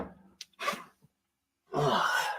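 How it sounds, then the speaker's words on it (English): A man who has a cold sneezes once, a loud, abrupt burst after a few short breathy sounds and a silent pause. "Sorry, had to sneeze"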